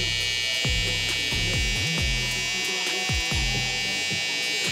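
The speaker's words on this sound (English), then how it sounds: "So I'm gonna grab my trimmer." An electric hair trimmer buzzes steadily and close up during a barber's high taper haircut, its constant hum shifting in pitch as the blade moves against hair.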